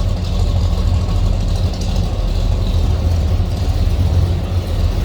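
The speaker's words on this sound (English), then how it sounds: "Nice throttle response to this one. Good sounding car." A 1970 Pontiac GTO V8 runs with a deep, steady, loud rumble, a continuous close-up burble without distinct rev spikes.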